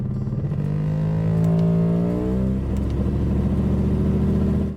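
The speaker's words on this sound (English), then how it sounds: "this customer came in with their Mercedes because it sounds like an outboard motor" A Mercedes engine with a fault that makes it sound like an outboard motor: a loud, close, buzzy revving drone that rises in pitch, then settles into a steady rough hum before cutting off.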